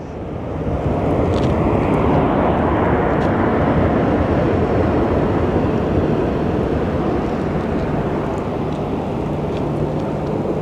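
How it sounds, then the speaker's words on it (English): A Contour Aviation Embraer 145 jet at Sky Harbor airport produces a loud, steady, broadband engine roar that holds evenly for about ten seconds. "we do have our Contour Aviation Embraer 145."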